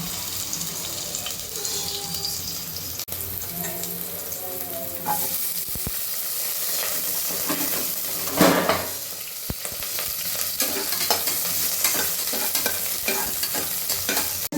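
Fennel seeds fry in hot oil in a pan with a continuous crackling sizzle, while a spoon stirs and scrapes steadily throughout, close and moderately loud.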